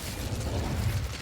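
A short, dense burst of rumbling fire from an Incendio spell cast in Hogwarts Legacy: a steady, roaring low whoosh lasting about a second, loud and close, with no voices.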